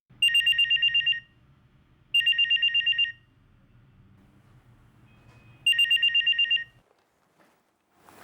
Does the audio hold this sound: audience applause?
no